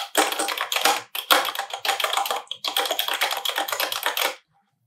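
Rapid mechanical key clacks in bursts, close and crisp, from a typewriter-style keyboard sounding like an old typewriter, with short pauses between runs.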